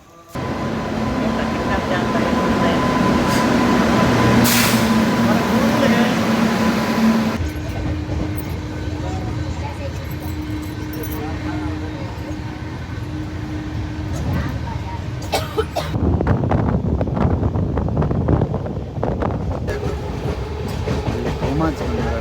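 A train at Ahmedabad railway station, a loud rolling rumble with clacking wheels and a tonal hum, shifting as it moves along, with voices talking beneath it.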